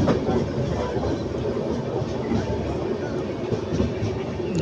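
Train at a railway station platform in Salem, a steady, dense rumble of rolling stock and platform noise that persists without a break.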